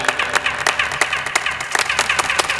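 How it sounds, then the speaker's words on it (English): Hand claps in front of the Kukulkan pyramid, each returning a bright, chirping, laser-like echo; a quick, steady run of about a dozen loud claps close by, with no talking. "if you clap in front of it, you hear what sounds like a laser coming back at you"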